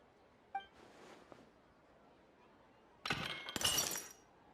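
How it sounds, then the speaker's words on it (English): A vase shatters in the Genshin Impact video game, a bright crash of breaking glass late in the clip after a small clink and near silence. "Look at the vase. Did someone break it while they were cleaning the room or something?"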